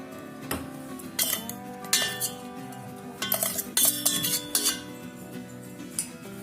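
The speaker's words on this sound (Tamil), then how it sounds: "இப்போ இதை ஒரு கிண்ணத்தில் மாற்றிக்கிறோம்." Finely ground ragi flour is transferred into a bowl: a spoon clinks and scrapes against metal in short, irregular bursts, close and fairly crisp, with no talking.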